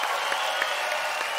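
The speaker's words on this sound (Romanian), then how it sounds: "aplauze puternice pentru Circul Belucii!" Circus audience applause forms a steady, even wash of many hands clapping at moderate distance, continuous and fairly soft throughout.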